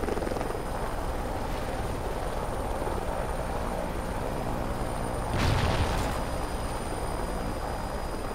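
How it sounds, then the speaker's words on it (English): Steady rotor drone of a scout helicopter arriving in the Call of Duty: Ghosts video game on the Octane map, continuous and loud throughout, with a short thump of gunfire or impact partway through. "Helo scout on the way."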